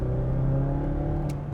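A naturally aspirated 2.5 litre four-cylinder engine in a front-wheel-drive Mazda 6 accelerating, a steady mid-pitched hum heard from inside the cabin, briefly rising near the end.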